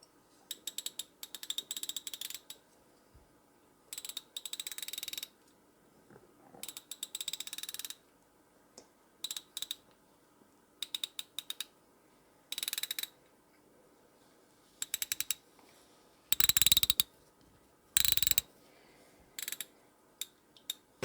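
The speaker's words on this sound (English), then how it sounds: "When I was turning the bezel for the first time, it was like a whoa, what?" Metallic ratcheting clicks from the bezel of a Unimatic UC 1 watch as it is turned by hand, coming in short bursts of rapid clicks separated by pauses, close and crisp, with no talking.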